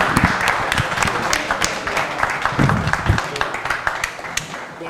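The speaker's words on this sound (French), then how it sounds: "On applaudit pour lui." Audience applause for a speaker at a North American federation meeting of the DRG-Ensemble pour la Guinée political party, a sustained mix of clapping with scattered taps and some voices underneath.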